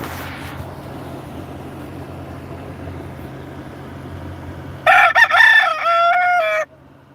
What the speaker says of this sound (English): Grandma likes my rooster.